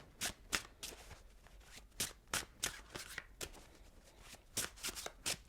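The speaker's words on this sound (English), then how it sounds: "I'm going to shuffle the cards." A deck of tarot cards shuffled close up, with a steady run of crisp, rapid slaps and riffles, soft and unbroken by speech.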